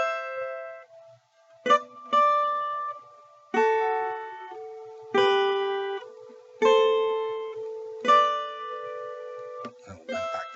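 Guitar notes ring out in a slow sequence, several plucked pairs sounding together in harmony, each sustaining and fading before the next; no talking.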